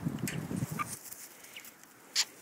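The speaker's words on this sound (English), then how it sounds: "So here's my so-called baby chicks." Four-week-old baby chicks of meat and laying breeds cluck and peep softly, a few low clucks at first followed by scattered faint chirps and one brief louder peep near the end.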